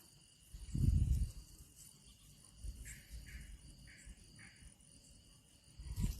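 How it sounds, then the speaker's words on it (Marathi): Crickets chirp in short repeated pulses outdoors at night in an open temple courtyard, a faint steady insect trill carrying over low background rumble and occasional handling thumps. "रातकिड्यांचा आवाज पण येतो इतकं सुंदर."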